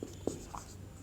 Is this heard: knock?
no